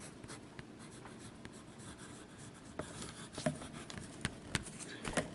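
A broad fountain pen nib moves across Tomoe River paper with wet-flowing Diamine Twilight ink, giving a faint, close scratching rustle broken by a few soft taps as the pen lifts and touches down.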